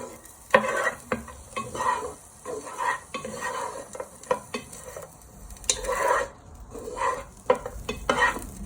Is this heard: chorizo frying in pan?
yes